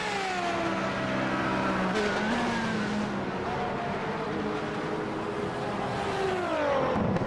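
Race cars lapping Monza in a sportscar racing video game, several engines whining and shifting pitch as they rev and pass, steady throughout with faint commentary underneath.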